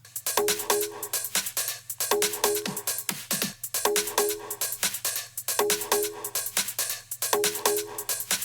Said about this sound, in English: So now we have a loop in Loopcloud that sounds like this.